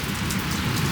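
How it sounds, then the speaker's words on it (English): Steady, dense rain pours down at a farm barn, a constant close hiss of drops drumming on surfaces with no pauses. "now it is raining"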